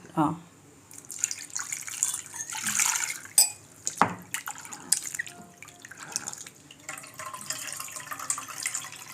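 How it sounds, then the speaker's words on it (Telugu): Tamarind water being strained splashes and drips intermittently, with irregular trickles, clinks against a vessel and a few sharper knocks, close and moderately loud. "ఇలా రెండోసారి కూడా వడపోసిన తర్వాత"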